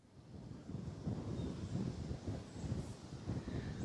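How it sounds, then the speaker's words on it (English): Wind gusting across an open disc golf course in a park, a steady low rumbling roar battering the microphone for the whole stretch, loud and close with no talk. "Bit of a headwind going uphill."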